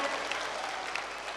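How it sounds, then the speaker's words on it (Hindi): Crowd applause at a large religious gathering where the Prime Minister is welcomed, a broad, steady wash of many hands clapping, heard at a distance and unbroken for the whole moment. "जोरदार ताली बजा करके हम सब पूरा बागेश्वर परिवार स्वागत करें"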